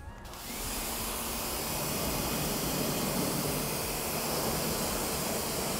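A pressure washer rinses the wheels of a minivan during exterior detailing, a steady loud broadband hiss of spraying water that starts abruptly and runs continuously close by.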